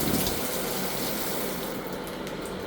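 Hot water runs from a tap in a house walkthrough, a steady, loud, close gushing stream that fills the whole stretch with no talk.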